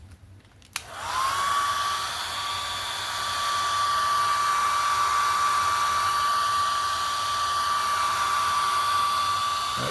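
A hair dryer blows on wet brown paint, switching on with a click and then holding a steady, loud, continuous whine and whoosh close by for the rest of the stretch, with no talking.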